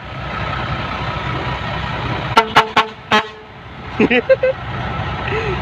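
A dump truck horn near a pit where dump trucks wait in line blasts in a quick series of short, loud toots, then a second cluster of shorter honks over a low engine idle.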